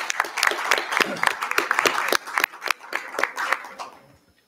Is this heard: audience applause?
yes